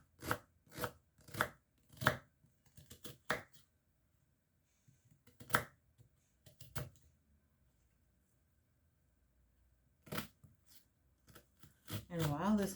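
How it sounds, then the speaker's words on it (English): Two onions are chopped with a knife for lamb curry: sharp, close chops come in quick rhythmic bursts, then sparse cuts after a pause, then a final cluster, with a brief voice at the very end. "So this is 2 onions that I'm cutting up."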